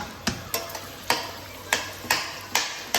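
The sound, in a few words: onions frying in a pan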